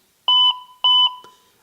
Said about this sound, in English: I'm going to put it back to the 2 beeps, which is what I normally use.